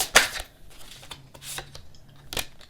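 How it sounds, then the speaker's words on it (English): Tarot cards being shuffled by hand in short bursts of crisp riffling and slapping, a sharp flurry at the start, softer rustles in the middle and another burst near the end, close and fairly quiet. "This is why I like shuffling on camera."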